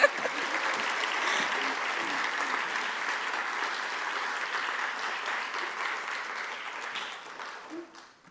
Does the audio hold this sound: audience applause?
yes